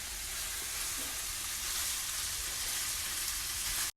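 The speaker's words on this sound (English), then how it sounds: "Saute the shrimp until they turn pinkish." Shrimp sauté in a hot pan, giving a steady, dense sizzle and crackle that stays even throughout and cuts off abruptly at the end, close up with no voices.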